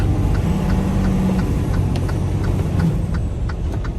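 Strong wind, gusting around 50 mph with ice and snow, buffeting a truck tractor and trailer, a loud continuous rumbling roar heard from inside the cab with faint ticking on top.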